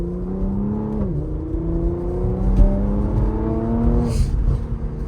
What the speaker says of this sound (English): Car sounds absolutely phenomenal though.